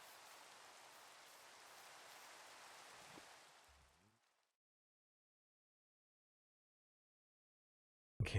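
Steady hiss of rain in Minecraft for about four seconds, then it cuts to silence, with a short loud burst at the very end.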